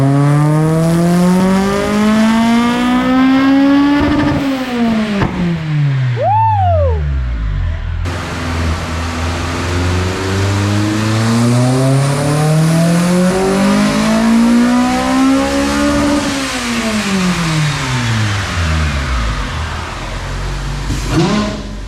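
Honda Integra DC2 with a K20A engine on a dyno, revving loud and close through two long sweeps that climb then fall, with a short sharp rise and drop in between.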